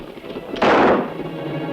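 A single gunshot, a sudden sharp crack with a brief rumbling tail, heard fairly close over a faint background.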